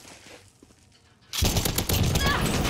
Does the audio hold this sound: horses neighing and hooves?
no